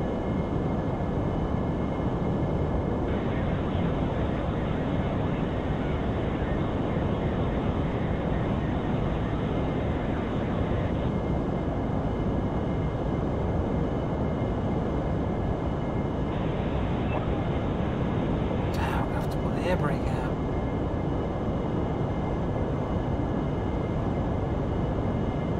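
Throttled-back aircraft engine in DCS World, a steady loud droning roar that holds evenly throughout, with a brief clicking cockpit sound near the end and no audible talk.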